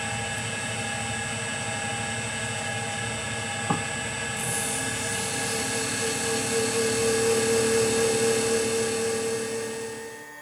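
Gem cutting machine rounding an aquamarine, a steady loud high-pitched whine with layered mechanical tones and a single sharp tick partway, running continuously before tapering at the end.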